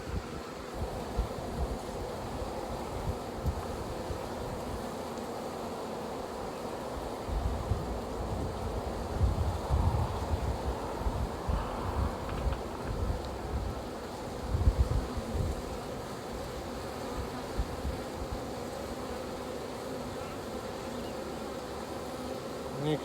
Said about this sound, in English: it's just a bustling hive. There are a ton of bees in that colony